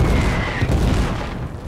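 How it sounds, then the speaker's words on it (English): Distant WWI cannon thunder in a trench warfare game rolls as a continuous low rumble of overlapping booms, loud at first and easing off toward the end. "Thunder of the cannons comes from our side."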